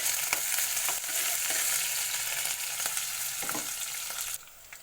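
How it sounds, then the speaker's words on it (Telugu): Onions and green chillies fry in hot oil with a steady, bright sizzle, broken by a few scraping stirs of the pan before the sound drops away near the end. "చూడండి, ఆనియన్స్, పచ్చిమిర్చి వేస్తున్నాను. కొంచెం కలిపేద్దాం."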